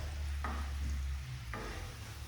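Soft stirring of a mixture with freshly squeezed lemon juice for garlicky salmon and lemon asparagus, two brief scraping strokes over a low steady hum of the stovetop, no voices.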